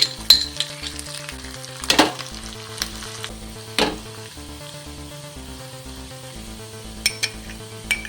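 Chopped garlic and ginger sizzle steadily in hot oil in a pan, with occasional metallic clinks of a utensil against the pan over soft background music.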